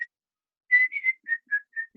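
A man whistles a short, bright tune of about seven quick clear notes in a rhythmic run, close and alone.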